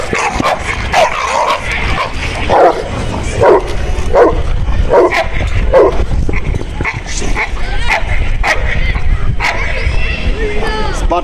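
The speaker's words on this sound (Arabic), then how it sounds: "شوفوا الشراسة ديال الكلاب اخوتي وردة الفعل ديالهم" Cane Corso dogs bark fiercely and repeatedly, loud and close, in rapid bursts mixed with yips and whimpers while someone talks over them.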